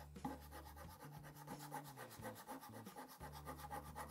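A ridged rougher tool scrapes the grain side of leather to prepare it for gluing, making steady, repeated rasping strokes, close and fairly quiet, with no talking.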